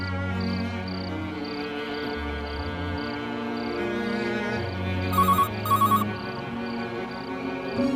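A phone rings with a repeating electronic trill, a steady patterned tone over a droning background, with a few brighter chirps near the end.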